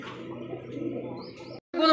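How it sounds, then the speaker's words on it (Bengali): Paired-beak (jora mukhi) pigeons at a pigeon sale coo in low, continuous murmurs, close by, with a brief chirp near the end after a short silence. "টপ কোয়ালিটির জোড়া মুখী কবুতর দেখেন"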